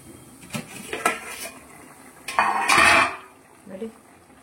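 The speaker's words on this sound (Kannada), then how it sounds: "ಇವಾಗ ಮುಚ್ಚಲು ಓಪನ್ ಮಾಡ್ಕೊಳ್ಳೋಣ" A metal lid lifts off a pot of Mangalorean cucumber sambar cooking on the stove, with several close clinks and scrapes and one louder rattling clatter in the middle.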